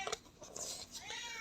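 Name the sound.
cat meowing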